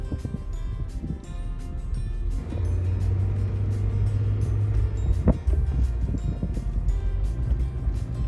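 A manual stick-shift car's engine runs steadily while driving, with a low drone that rises after a couple of seconds and continues near and fairly loud, without talk.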